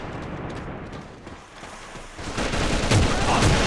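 Rapid gunfire in the online shooter AVA, dense overlapping shots in a noisy wash that grows louder and busier toward the end, with no clear talking.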